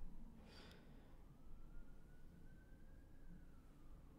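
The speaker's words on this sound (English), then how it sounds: "Sirens. Sirens everywhere." A faint siren wails outdoors in the distance, rising and holding in a long drawn tone over quiet background noise, with a brief breathy sound near the start.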